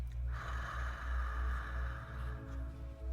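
Ujjayi pranayama breathing, a slow constricted-throat breath drawn out in one long, steady, hissing stream, close and alone.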